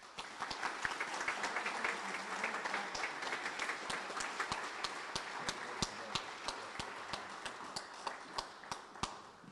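Applause from the audience at a military award dinner, a dense steady patter of many hands clapping for nearly ten seconds, with a few sharper individual claps standing out near the end.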